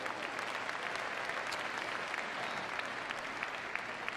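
Crowd applause in the Crufts 2014 arena for a heelwork-to-music freestyle competitor, a steady wash of many hands clapping, distant and fairly soft throughout.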